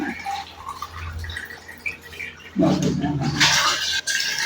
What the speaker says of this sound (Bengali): আমাদের পরিমাণ মতো আমরা পানি দিয়ে দেবো